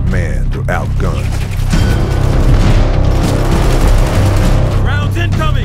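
Dense gunfire and explosions rumble continuously in a military shooter battle scene from Operation Flashpoint: Red River, with shouted voices briefly heard over the din at the start and end.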